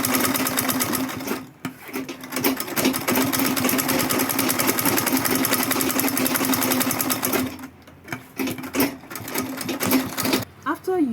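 A sewing machine stitches a denim tote bag in long, loud, fast runs close by, pausing briefly near the start and again in a stop-start stretch toward the end.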